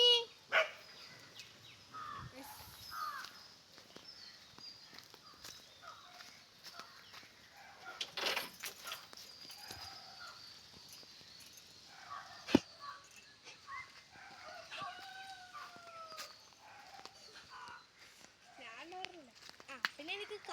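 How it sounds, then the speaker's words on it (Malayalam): A dog barks below from some distance, a few faint intermittent barks amid quiet household background, with people talking nearby and a rooster-like call near the end. "താഴെ പട്ടിയുണ്ട്."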